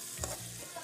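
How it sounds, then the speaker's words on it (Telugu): Onion frying in a pan for chicken fry, a soft steady sizzle with a brief stirring scrape near the start, alone and fairly quiet. "ఉల్లిపాయ వేసుకొని బాగా మగ్గనిద్దాం."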